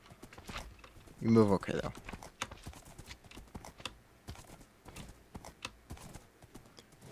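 Horse hooves clop steadily in the Minecraft video game, a run of quick, light steps heard as a brief voice speaks over them.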